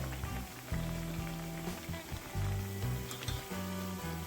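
Veg cutlets frying in hot oil give a steady close sizzle with low crackling bursts that swell and fade, and no voices are heard.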